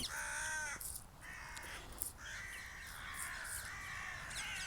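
Several crows caw outdoors in a series of harsh, repeated calls, some near and loud, others overlapping at a distance, with no talking.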